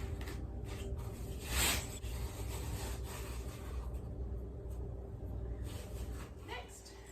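Leftover glue being scraped off a cat tree after a repair, heard as a steady rubbing, rasping scrape close by, with one brief louder stroke partway through and a low background hum.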